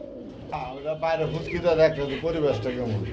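Pigeons cooing at a bird market, low throaty warbling coos close by, mixed with murmuring voices in the background.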